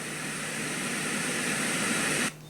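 Constant loud white noise from a Hatch Baby Rest sound machine, a flat even hiss that holds steady and then cuts off suddenly just before the end.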